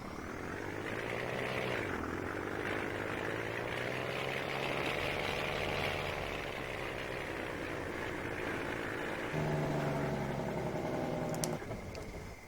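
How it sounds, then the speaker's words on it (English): An old dump truck's diesel engine in a farming simulator game, a steady droning rumble with a whistling turbo-like whine that rises and falls slightly, then shifts pitch near the end before a click. "it might sound like a Detroit diesel too, a little bit"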